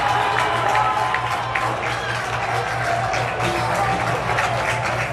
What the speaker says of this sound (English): That cheer you just heard was a TNXL Premier home run to make that game 2-1.